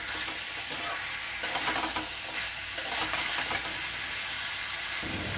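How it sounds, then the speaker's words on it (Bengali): Chopped tomato and peas sizzle in a pan while a utensil stirs them, giving a continuous frying hiss broken by several scraping, clattering strokes across about five seconds, close up with no talk. "টমেটো কুচিটা দেওয়ার পর আর একটু নেড়ে চেড়ে নেব।"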